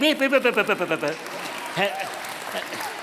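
A church congregation laughs in quick rhythmic bursts, then breaks into soft, scattered applause for a magic trick, a diffuse patter of claps that stays low and steady.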